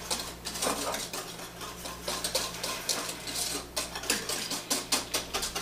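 A whisk beats cocoa powder, sugar and milk in a bowl to break up lumps for old-fashioned chocolate fudge. Quick, steady metallic scraping strokes repeat close by with no talking.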